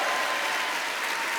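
Audience applause for Michel Drucker at a televised comedy gala, a dense, steady wash of clapping from a large crowd, moderately loud and sustained with no voices on top.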